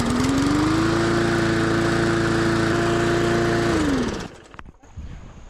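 A repaired old push lawn mower engine runs loud and steady up close, its pitch rising slightly at the start and then holding even before it winds down and cuts off near the end.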